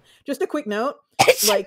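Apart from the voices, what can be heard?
sneeze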